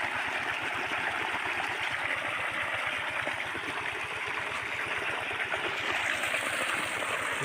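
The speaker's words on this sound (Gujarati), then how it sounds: "અમારા ભાઈ મનીષભાઈ પાણી વારે છે।" Irrigation water flows steadily into a wheat field, a continuous close gurgling rush with rapid rhythmic pulsing underneath, even in loudness throughout.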